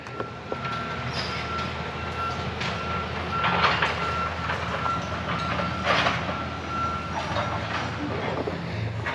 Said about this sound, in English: He's out there working on that excavator, getting the last few little piles of junk out of there